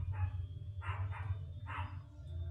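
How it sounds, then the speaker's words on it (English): A dog barks three times at a distance, in quick irregular succession, over a steady low hum. "And now my dog's barking."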